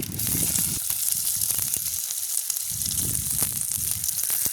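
Fennel seeds, fenugreek and onion fry in a pan with a continuous, crackling sizzle and occasional soft stirring sounds, close up and with no talking.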